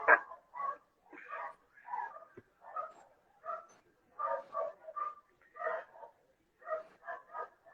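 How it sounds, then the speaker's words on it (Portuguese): Neighbours' dogs bark and yip repeatedly at a moderate distance, in irregular bursts of several barks each, with quiet gaps between them. "Tá escutando os cachorros ou não?"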